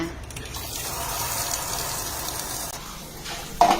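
Water running from a tap while dishes are washed with detergent, a steady close rushing and splashing, with a voice speaking faintly under it.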